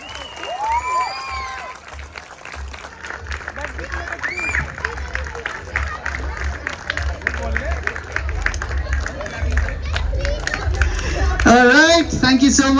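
An audience claps through an award moment at the closing ceremony of a volleyball and throwball league, with continuous clapping under voices and crowd chatter that swells louder with some cheering near the end.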